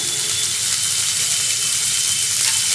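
Chana dal soaked for four hours is added to a hot pan for kanika bhog and stirred, giving a loud, continuous frying sizzle and hiss close up.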